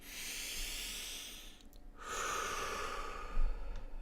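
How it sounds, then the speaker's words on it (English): Deep breath drawn in and let out during a guided healing meditation, soft airy hiss of inhalation then exhalation, close and faint with no talking. "Deep breath in, deep breath out."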